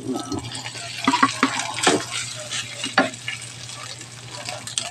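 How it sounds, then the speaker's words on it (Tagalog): Garlic fried rice (sinangag) cooking with egg in a pan, a steady close sizzle broken by spatula scrapes and stirring clatters, with no one speaking. "Next, luto tayo ng sinangag or kalo-kalo."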